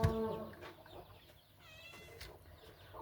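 A cat meows several times indoors, its cries rising and falling close by and fairly loud, with brief pauses and quieter background noise between calls.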